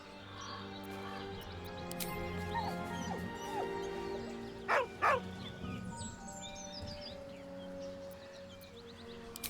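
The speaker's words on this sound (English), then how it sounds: "With a deep, heartbroken whine, the dog bows his head." A dog in Baldur's Gate 3 gives a soft, drawn-out whine over a quiet game backdrop, with a couple of sharper yips in the middle before it fades back to low whimpering.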